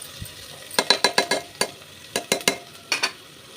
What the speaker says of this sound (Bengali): এবার পেঁয়াজগুলো একটু লাল লাল করে ভেজে নেব